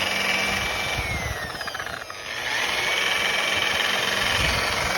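Electric polisher with a variable speed knob, run at low speed while buffing the paint finish on a relic guitar at home, giving a steady mechanical whir that holds nearly continuously, dipping briefly midway.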